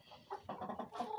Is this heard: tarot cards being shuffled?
no